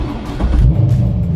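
A car engine rumbles and revs up in a garage, a loud, close low drone that swells partway through and holds steady.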